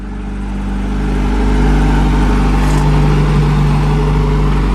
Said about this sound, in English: It's on high idle right now because the car is warming up.